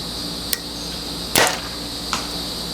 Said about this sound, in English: Last shot for tooth of the arrow.